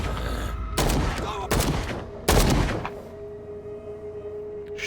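Gunfire in the video game Call of Cthulhu: three loud, sharp shots land in quick succession, each with a brief decaying tail. A low, steady ambient hum follows, with no talking.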